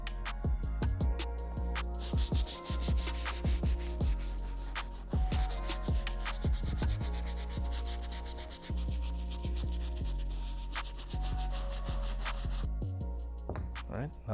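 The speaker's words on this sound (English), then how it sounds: "let's move on to the medium bristle brush" A medium bristle brush scrubs sneaker midsoles with rapid, repeated rasping strokes, close and continuous without a break.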